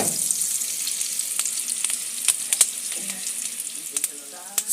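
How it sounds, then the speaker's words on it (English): Onion frying in a pan for an African chicken dish, a steady broadband sizzle with scattered crackles and pops, close and fairly loud, no voices. "put the onion. I'll cook it until it's loosened"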